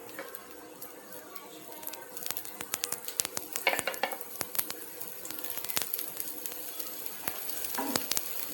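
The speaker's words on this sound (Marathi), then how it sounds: "मंद आचेवरती अलटून पलटून छान अशी आपल्याला क्रिस्पी करून घ्यायची आहे." Soya granule cutlets shallow-frying in oil in a pan over low heat, with a quiet, continuous sizzle and crackle. Sharp pops and spatters come at irregular moments, close by, with no talking.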